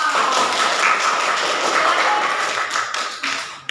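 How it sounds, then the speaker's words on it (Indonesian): A class gives a dense, steady round of clapping after a group presentation in a school classroom, fading slightly near the end. "Kita beri aplaus dulu dong."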